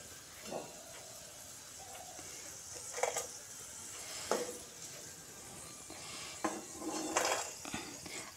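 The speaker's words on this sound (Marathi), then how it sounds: "आता याला काढून घेऊया।" Crisp fried okra lifted from oil in a pan, with soft sizzling under several sharp metal spoon scrapes and clinks against the pan, fairly quiet overall.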